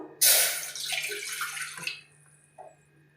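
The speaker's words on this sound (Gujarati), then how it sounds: "એમાંથી આપણે થોડું ઓછું પાણી મૂકશું" Water pours steadily from a vessel into a pan for about two seconds, a loud rushing splash that stops abruptly, followed by a few faint drips and small clinks, with no talking, while preparing lapsi, a Gujarati sweet.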